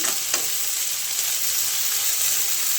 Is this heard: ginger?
yes